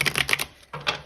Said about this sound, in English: I will give the deck a few more shuffles